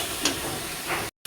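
Spices and potatoes fry in a pan with a steady, dense sizzling hiss, close and fairly loud, with a brief stir and a sudden cut near the end.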